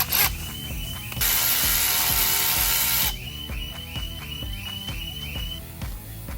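Power tool running down bolts during a Wood M8-22XE cam installation on a Harley CVO 117 engine: short rattling driver bursts with one sustained high whine in the middle, close and loud, no talk.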